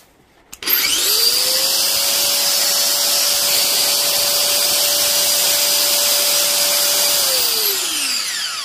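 A repaired power tool with new brushes, lead and plug switches on, whirs up to a steady high-pitched motor whine for several seconds, then winds down.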